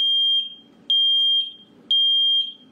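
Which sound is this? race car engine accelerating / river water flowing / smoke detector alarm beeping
smoke detector alarm beeping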